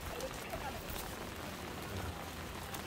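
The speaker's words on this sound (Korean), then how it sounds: "비가 꽤 많이 옵니다, 지금." Heavy rain falls steadily on an umbrella-lined path on the way to Sammaksa temple during Buddha's Birthday, a dense, continuous hiss filling the whole moment without pause.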